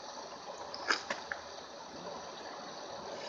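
River water rushes steadily below a waterfall, a broad constant hiss with a few faint clicks or splashes early on and no voices.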